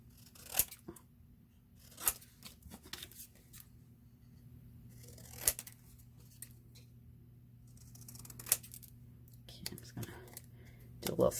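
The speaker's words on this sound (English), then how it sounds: "Cut this out." Scissors snip a paper mermaid cut-out at a quiet craft table, in a few sharp, separated cuts spread across the clip with soft paper rustling between them.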